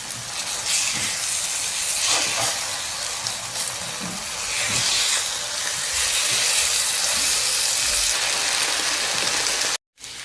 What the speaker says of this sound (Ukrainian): І смажу печінку з бок сторін до золотистої кірочки.